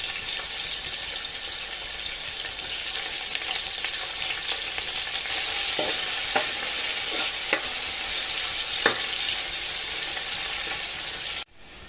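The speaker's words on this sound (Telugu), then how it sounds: "ఇవి మంచిగా బ్రౌనిష్ కలర్లో ఫ్రై అవ్వాలి" Thinly sliced medium onions frying in oil toward brown for a chicken pulao, a bright, steady sizzle with occasional stirring taps that continues for a long stretch before stopping abruptly near the end.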